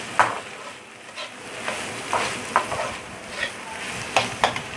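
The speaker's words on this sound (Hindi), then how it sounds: "ये देखिए, ये कीमा फ्राई हो रहा है। तेज़ आंच रखनी है इसकी और जल्दी जल्दी चमचा चलाना है।" Minced beef frying over high heat in a pan while a spoon stirs it quickly, giving a steady close sizzle punctuated by repeated scraping strokes.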